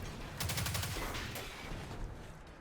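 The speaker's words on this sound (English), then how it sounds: "then you shoot the vent open" A quick burst of rapid gunfire in a Destiny game as a vent is shot open, sharp repeated cracks at moderate volume fading into a lingering rumble.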